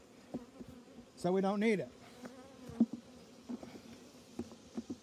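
Honey bees buzz near a beehive, one loud close pass lasting under a second amid quieter scattered clicks and rustles, with a brief spoken remark.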